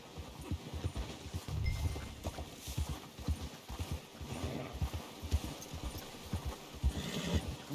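Horse hooves clip-clop in Red Dead Redemption 2 at a steady walking rhythm, fairly close, with the soft thuds repeating evenly throughout and no talking.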